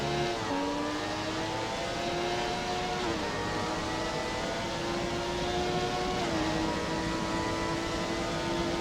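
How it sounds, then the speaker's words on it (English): Honda V12 engine in a McLaren MP4/6 racing car screaming at high revs in a racing video game at Interlagos, loud and continuous with stepped pitch drops at gear shifts, no talking. "Revving this Honda V12 out to about"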